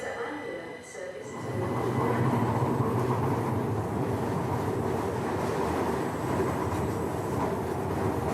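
A train standing at or pulling into a station platform, a steady low rumble and hum that swells in after a quiet first second and holds, fairly close, with faint background voices.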